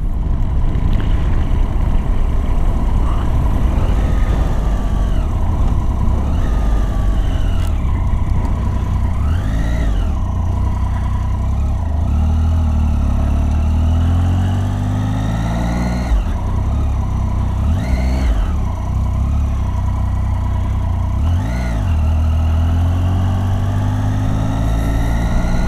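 A motorcycle engine runs steadily and close, with repeated revs that rise and fall every few seconds as gears are shifted. Loud, continuous mechanical drone with no voices.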